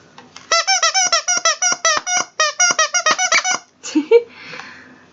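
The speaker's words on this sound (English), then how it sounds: "So let's make him squeak." Plush toy creature squeaked in a rapid, rhythmic run of about twenty close, bright squeaks, with a brief pause midway, then a short vocal sound and rustle at the end.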